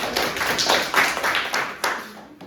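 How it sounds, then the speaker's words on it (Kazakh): A seventh-grade art class claps hands together, a dense, fairly loud burst of overlapping claps that fades toward the end. "Қол шапалақтап қояйық."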